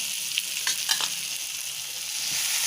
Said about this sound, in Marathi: थोडासा टामॅटो परतून घ्यायचा आहे